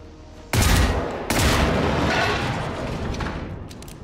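Shotgun blasts in the video game Generation Zero, two loud close booms about a second apart, the second followed by a long rumbling decay.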